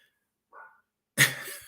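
Dogs bark indoors: one faint, muffled bark followed by a louder, sharp bark close by, with quiet gaps around them.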